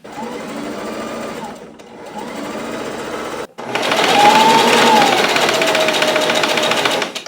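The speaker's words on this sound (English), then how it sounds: "I'm also using a zigzag stitch for this cardigan as well." A sewing machine runs a zigzag stitch on cardigan fabric, buzzing close and loud in two short bursts before a longer, stronger continuous run.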